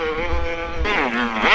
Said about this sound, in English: The revving in the air is so good.